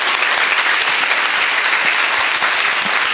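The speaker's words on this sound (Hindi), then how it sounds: "और जोर से ताली बजाओ" Dense, steady applause from an audience at a devotional question-and-answer gathering, a loud continuous wash of clapping with no gaps throughout.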